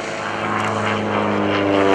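RV propeller airplane flying a solo aerobatic loop at an airshow, a loud steady engine drone with propeller buzz that swells slightly, close overhead and heard alone.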